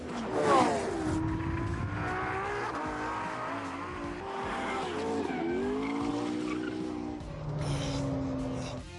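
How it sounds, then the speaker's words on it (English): Race cars driven hard in The Grand Tour video game, with continuous loud engine whine rising and falling through gear changes and long tire squeals from skidding through corners, no voices. "Jerome took the cars out to get a sense of how they handled."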